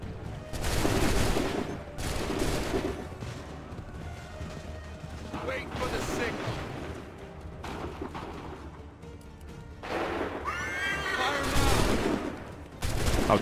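Musket volleys crash out in an Assassin's Creed III battle at Lexington and Concord, big rolling bursts of massed gunfire in several waves, loud and reverberant, with voices shouting between them.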